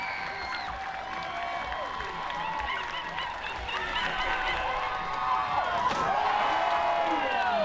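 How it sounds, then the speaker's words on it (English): Spectators at a dog diving dock competition cheering and applauding, whoops and clapping building louder toward the end, with a commentator speaking over it. "He wants to hear a little noise from the crowd"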